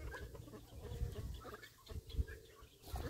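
Pet hens cluck close by in a low, irregular series of soft clucks and short calls while being fed, with no talking over them.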